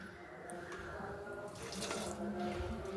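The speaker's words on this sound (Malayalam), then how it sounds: "കുറച്ച് വെള്ളം ചേർക്കണം." Water runs steadily from a tap over ground coconut being prepared for coconut milk in a home kitchen, a continuous close splashing flow that swells slightly toward the end.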